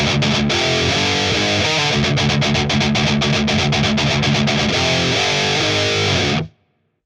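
A heavily distorted electric guitar plays a fast, chugging riff with pull-offs from a metal song, loud and driving, with rapid palm-muted bursts before stopping abruptly.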